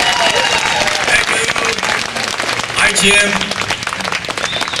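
A band concert audience applauds the percussionist, a dense steady wash of clapping and cheering that fills the whole moment, with a brief spoken word on top.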